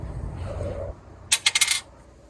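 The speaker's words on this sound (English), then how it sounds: "Roll 1 dice" A single die is rolled for a gamebook and clatters across a hard surface in a quick burst of four or five sharp, bright ticks before it settles, close and clear in a quiet room.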